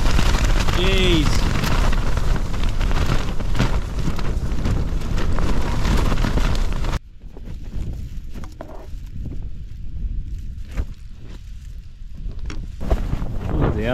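Strong wind gusts batter a tent on a mountain during sub-zero winter wild camping in the Lake District, loud and roaring for several seconds before abruptly dropping to quieter flapping and rustling.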